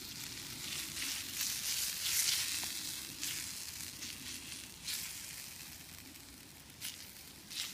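Onions, squash and tomato sizzle and fry in a pan at a cookout, a steady close hiss broken by periodic bursts as the vegetables are stirred.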